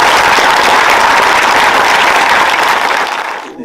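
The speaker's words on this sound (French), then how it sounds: "On peut applaudir Régis, quand même aussi." Dense audience applause at a film premiere screening, steady and loud for about three seconds before quickly fading out.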